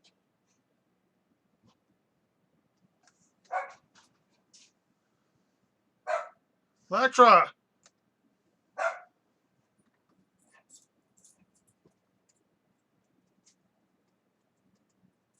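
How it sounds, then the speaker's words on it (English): Electra, a dog, gives a few sharp, separate barks spaced seconds apart in a quiet room, and a person calls out to her once between them. "Electra, what are you barking at?"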